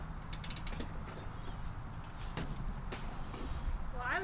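A socket wrench ratchets in quick clicking bursts during a motorcycle oil change, faint and close against a low steady background hum.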